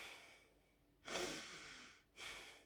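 A person demonstrates shallow breathing through the neck and upper chest, two breathy airy breaths heard up close in a quiet room, the first longer than the second.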